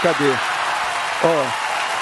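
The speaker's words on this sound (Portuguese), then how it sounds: "Por favor, cadê a salva de palmas?" Steady clapping from a crowd fills the background throughout, with a voice briefly calling out twice over it.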